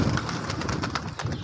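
Pigeon cooing inside a pigeon loft, a close, loud, throaty burbling coo repeated in a continuous rolling pattern, with no speech.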